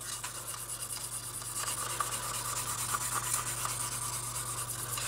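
A buffing stick rubs steadily along the curved edge of a small plastic part from an Italeri German motorcycle and sidecar kit, a soft, continuous hiss close up with no talking.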